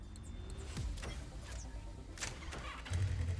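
Quad bike engine from the Trials Fusion video game, a steady mid-pitched motor drone that revs up briefly and grows louder near the end, playing alone without talk.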